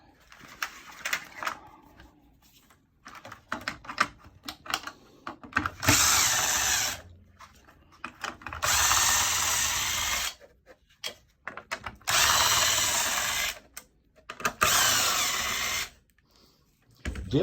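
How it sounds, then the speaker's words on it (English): A power driver fitted with a 1/4-inch hex bit backs out the fan mounting screws on an RV refrigerator. Four loud, sustained whirring runs of a few seconds each are broken up by clicks and handling noise. "Remove the 4 fan mounting screws with a 1/4-inch hex bit."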